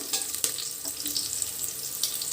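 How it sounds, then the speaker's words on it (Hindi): Ginger, garlic and chili paste frying with onions in a pan, a loud close hissing sizzle with a few sharp crackles and stirring scrapes, no voices. "अदरक लहसुन और मिर्ची का पेस्ट। इसको भी थोड़ा सा भून लूँ।"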